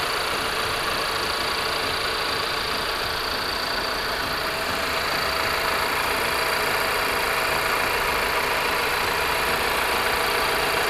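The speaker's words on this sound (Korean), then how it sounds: "엔진 소리 일정하네요" A steady, unchanging engine hum from an Audi A6 (C8) 45 TFSI idling, with a hissy, broadband texture running evenly throughout, no voices present.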